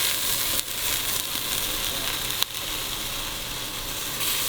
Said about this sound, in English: Okay, so now our beef is seared